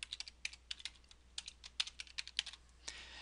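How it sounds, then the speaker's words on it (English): Fingers typing on a computer keyboard, a quiet, steady run of light key clicks at an irregular pace, close and alone with no talk. "you want to type in your name"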